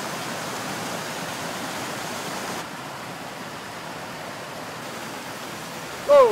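Steady broadband rush of an eastern Washington trout stream flowing over rocks, continuous and fairly close, with a brief splash or sharper burst of sound at the very end.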